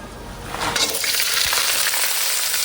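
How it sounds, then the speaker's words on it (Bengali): Steady, loud sizzling of vegetables frying in hot oil, a dense crackling hiss that swells after a moment and keeps going without a break. "একটুখানি নেড়ে ছেড়ে ভেজে নিয়ে সবজিটা দিয়ে দিচ্ছি"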